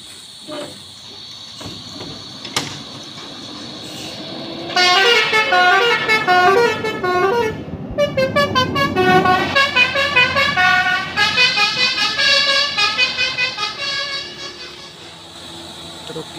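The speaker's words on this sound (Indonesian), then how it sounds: "Truk Isuzu pembawa buah tandan sawit." A large Isuzu truck carrying oil palm fruit bunches drives past on a road, its engine rumbling and roaring up as it nears, with horn-like tones and road noise around it.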